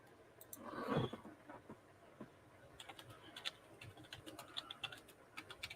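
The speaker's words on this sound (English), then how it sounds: "I don't know why I'm typing in the chat." Computer keyboard typing during a livestream chat, light clicking keystrokes in short irregular bursts, soft and close, after a brief louder rustle near the start; no talking.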